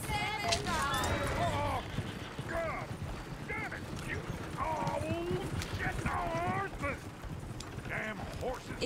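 Horse hooves clip-clop steadily in the Old West world of Red Dead Redemption 2, a continuous busy patter mixed with bustling ambience and overlapping voices talking throughout.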